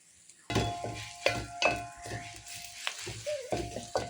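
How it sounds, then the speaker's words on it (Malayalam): Crushed garlic sizzles and fries in a pan while a utensil stirs it in repeated scraping strokes, close and steady, with no voices, during the cooking of chicken dum biryani. "അപ്പോൾ നമ്മൾ ഇത് നന്നായിട്ടൊന്ന് ഇളക്കി കൊടുക്കാം"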